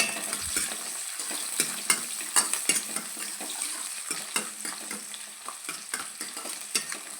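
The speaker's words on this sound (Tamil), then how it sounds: "வெங்காயம் நல்லா வதக்கிக்கோங்க" Onions sauté in hot oil with cinnamon and cardamom, giving a close, steady sizzle under repeated clinks and scrapes of a metal spoon stirring against the pan.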